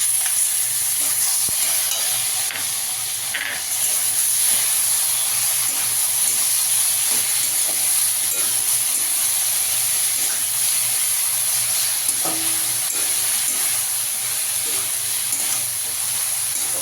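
Radhuni spice paste, ground on a grinding stone, frying and being stirred in a pan over a gas flame, with a steady loud hiss and sizzle and occasional faint scraping.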